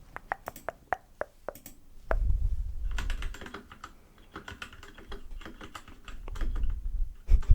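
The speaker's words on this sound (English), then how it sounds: "Let me just type this in 1 sec." Close, crisp keystrokes on a computer keyboard, first as isolated clicks and then in quick irregular bursts, with soft low rumbles beneath in a quiet ASMR setting.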